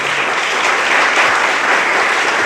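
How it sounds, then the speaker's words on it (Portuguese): Steady, dense applause from a crowd, loud and sustained throughout without pause, at a church worship service. "Vamos dar uma salva de palmas ao Senhor."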